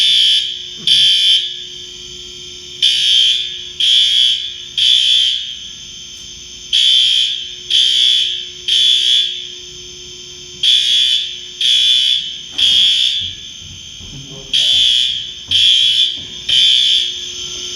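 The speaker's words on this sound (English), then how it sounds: "This is acknowledge, you're acknowledging the alarm." A fire alarm panel sounds loud and close, repeating short electronic beeping bursts in a steady on-off pattern over a quiet room, with brief faint background movement.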